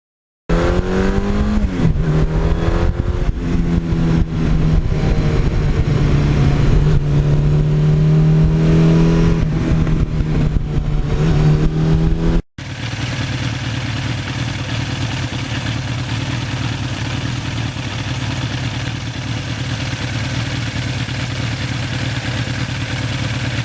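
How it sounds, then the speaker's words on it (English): A 1982 Suzuki GS1100E motorcycle with an aftermarket exhaust revs hard, rising and falling in pitch, then drops to a steady, lower rumble as the throttle eases off. Loud and close. "I just love the sound of this when you back off the gas."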